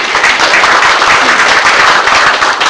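Dense, steady applause from a crowd of guests at a book launch ceremony for 'Changbal Gyeongyeong', sustained loudly throughout without a break.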